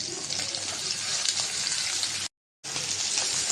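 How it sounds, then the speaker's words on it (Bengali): Onion and green chili fry with shrimp in hot oil, a close, steady sizzle and hiss that cuts out briefly and then resumes. "পেঁয়াজটা একটু বেজে নেব"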